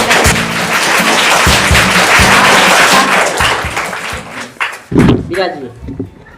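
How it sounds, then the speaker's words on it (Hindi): A studio audience on the quiz show Kaun Banega Champion breaks into loud, brisk applause over a low musical backing, then the clapping drops off abruptly and a host's voice follows. "जोरदार तालियां हो जाए"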